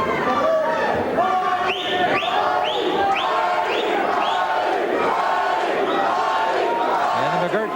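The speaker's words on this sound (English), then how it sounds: "And the McGirt crowd comes alive" Boxing arena crowd roaring and cheering for Buddy McGirt during his bout with José Bermudez, a loud continuous wall of shouts and yells with rising chants.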